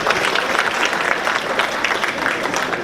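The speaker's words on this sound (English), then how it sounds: "let's give him a round of applause for stopping by." Audience at an awards dinner gala applauds, a dense, steady burst of clapping from many hands, loud and close, lasting the whole stretch.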